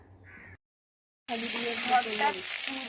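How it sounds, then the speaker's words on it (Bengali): Food is fried in a pan with turmeric and salt: a short voice and a gap give way to steady, close sizzling that continues to the end. "তো হলুদ নুন দিয়ে খুব ভালো করে কষিয়ে নেব।"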